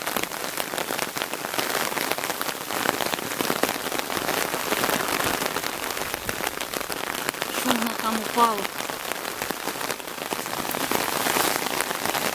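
Steady heavy rain drums on surfaces throughout, with a brief spoken remark partway through.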